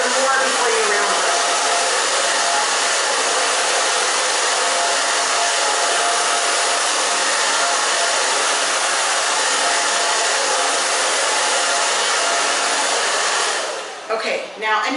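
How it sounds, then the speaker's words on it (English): A hair dryer blow-dries medium-length hair with a round brush, giving a loud, steady, close whoosh that fills the whole clip and shifts slightly as it ends, with no talking. "is drying your hair more before you round brush"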